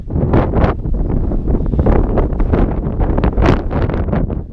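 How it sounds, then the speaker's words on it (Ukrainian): Strong mountain wind on the Chornohora ridge in the Carpathians buffets the microphone in loud, continuous rumbling gusts, with no voices. "Але сьогодні вітряно дуже"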